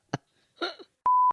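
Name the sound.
phone notification beep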